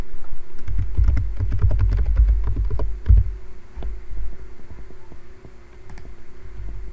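Keys clacking on a computer keyboard while someone types a word into spreadsheet software, a quick burst of close, crisp clicks followed by a few scattered taps, with a low steady hum underneath and no talking.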